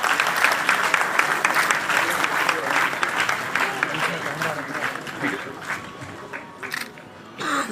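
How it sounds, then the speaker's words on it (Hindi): An audience at a police academy event bursts into sustained, strong applause, a steady wash of many clapping hands with crowd murmur beneath, tapering slightly toward the end. "एक बार जोरदार तालियां बजाकर"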